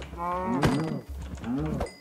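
A cow in the video game Minecraft (version 1.15 survival) lets out two close, loud, drawn-out moos, with a short pause between them and no talk over them.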